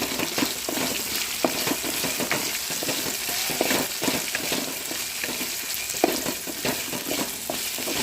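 Okra pieces stir-fried in a kadai, a continuous hissing fry under repeated scraping and tossing of the spatula, close and steady with occasional sharper clicks of metal.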